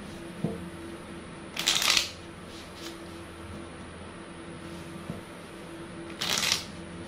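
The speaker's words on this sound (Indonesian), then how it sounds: "Kita kocok kartunya ya." Tarot cards shuffled by hand in a quiet room, two short papery riffling bursts separated by a pause, with faint soft handling taps in between.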